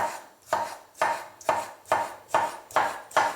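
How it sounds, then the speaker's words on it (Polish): A knife chopping pickled cucumber into sticks on a cutting board, eight crisp evenly spaced cuts at a steady rhythm, close and clear, no talk. "a później tak, żeby nam wyszły w miarę cienkie, podłużno-poprzeczne plastry i kroimy w słupeczki"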